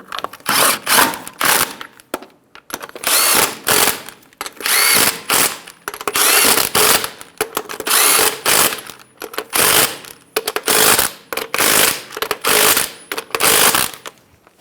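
Power tool driving car wheel lug nuts on a 2010-2014 Subaru Outback, loud repeated rattling bursts of about a second each with short pauses between.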